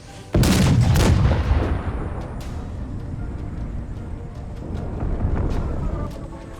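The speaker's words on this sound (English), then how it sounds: "we got a large volley into the militia who immediately break" An infantry musket volley in the Empire 2 Generals Mod battle game: a sudden loud crackling burst of many shots at once, followed by a rolling decaying rumble and distant battle noise.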